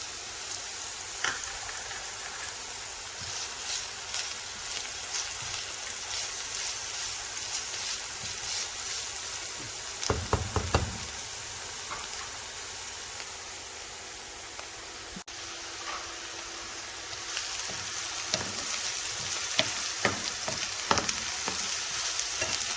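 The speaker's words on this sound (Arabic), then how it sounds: "نحلى زيت الزيتون مع البصل" Onions sautéing in olive oil give off a steady, close hiss of frying, with louder bursts of stirring and scraping in the pan partway through and again near the end; no one speaks.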